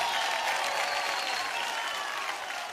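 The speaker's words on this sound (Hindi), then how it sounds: "दोनों के लिए जोरदार तालियां हो जाए जरा।" Studio audience applause at a comedy award show, a steady, moderately faint roar of many hands clapping together that holds evenly for a few seconds and tapers slightly toward the end.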